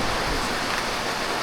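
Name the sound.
heavy rain pouring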